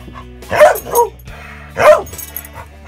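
A dog barks close by, two sharp barks with a softer yip between and a short pause before the second.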